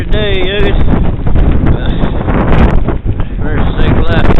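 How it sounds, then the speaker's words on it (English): Strong wind roars and buffets the microphone during a whiteout snowstorm in Newkirk, Oklahoma, at 4 degrees, loud and continuous with gusty swells and a faint voice near the start. "That wind blowing here. Yeah, pretty windy out here today"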